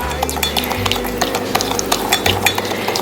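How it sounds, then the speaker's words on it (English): Melted butter, sugar and vanilla for pancakes are mixed by hand in a bowl, a utensil scraping and clinking in quick, irregular strokes close to the listener. "I'm going to mix this together."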